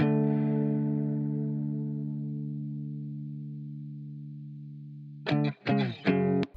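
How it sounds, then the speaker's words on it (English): Sustained guitar chord from an emotional loop rings out with a soft, subtle reverb tail, fading slowly over several seconds before a few brief plucked guitar notes enter near the end. "let's add a very subtle reverb in the background."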